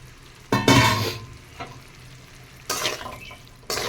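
Fried okra and onions tipped into hot masala hit the pan with a loud, close sizzle, followed by a few more bursts of frying and stirring, no voices.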